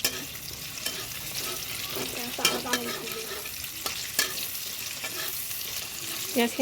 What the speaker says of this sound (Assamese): পিঁয়াজখিনি ভাজি বৰ্তমান হৈ গৈছে